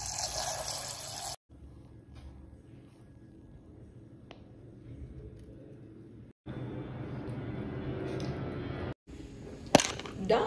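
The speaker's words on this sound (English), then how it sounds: "We're gonna add some water." Water poured into a pot for making Maggi noodles, a soft running, splashing stream in a few separate bursts with quiet gaps between them.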